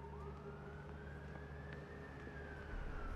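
A distant emergency siren wails in the video game Late Shift, one long rising and falling tone drifting over a loud low rumble of ambient city noise.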